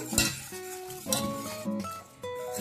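A whisk or spoon stirs pastry cream powder into milk in a metal pot, giving a few clinking, scraping strokes in short bursts, close and fairly quiet.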